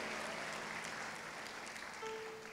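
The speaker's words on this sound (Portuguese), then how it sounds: "eu quero aproveitar e dar um aplauso para Jesus por você" Church congregation applauding in a worship service, a steady, dense wash of clapping from many hands that continues evenly throughout, fairly distant and soft, with faint sustained tones beneath.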